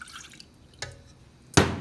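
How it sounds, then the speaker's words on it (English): Water and milk are poured into a saucepan while making choux pastry: a couple of short, light drips and splashes, then a louder, fuller pour that carries on to the end. "Pour the water and milk"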